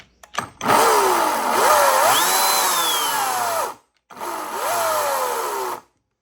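An Atlas 80V 18-inch battery chainsaw runs up with a whining motor and rattling chain, holds steady for about three seconds, cuts off, then revs again for a shorter second burst, loud and close with no talk.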